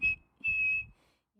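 A person whistles a tune in two clear, pure notes, the second one held longer, close and alone.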